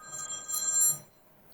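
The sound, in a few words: office telephone ringing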